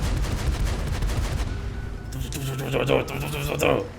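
Bursts of game gunfire crackle in rapid succession, loud and close, mixed with shouting voices and sharp impacts.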